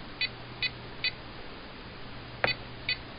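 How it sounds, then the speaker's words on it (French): Short electronic beeps from a RadioLink AT9 radio-control transmitter, five evenly spaced chirps and one slightly stronger tone, each brief and clear over a quiet background hum. "On appuie, on attend le bip."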